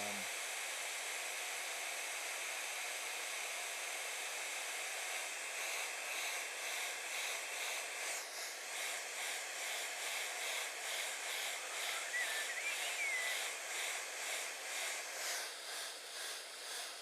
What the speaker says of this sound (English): I don't use a hairdryer for anything other than art.